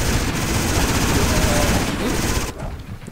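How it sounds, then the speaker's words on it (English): Rapid, continuous gunfire from a big gun in the zombie shooter game Nation Red, a dense loud barrage that holds steady and then cuts off near the end. "I have a really big gun"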